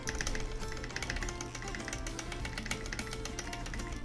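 Dense, continuous clacking from a custom mechanical keyboard fitted with Gateron Brown switches, typed fast and steadily at close range with no pauses.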